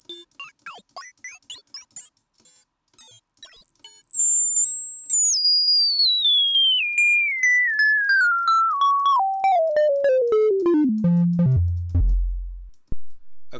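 A pure electronic sine tone, swept upward past the Nyquist frequency and aliasing, steps steadily downward in pitch over many seconds, from a piercing whine to a low hum, with faint ghost tones alongside.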